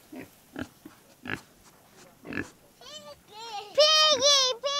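A farm pig grunts and snorts in several short bursts, then gives a louder run of high squeals, close and clear, with a little background chatter.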